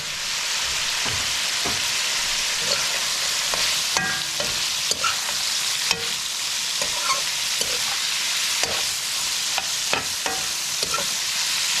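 Onions, scallions, peppers and celery stir-fry with shrimp and bok choy in a hot pan, giving a steady close sizzle broken by irregular scraping and clacking of the utensil against the pan.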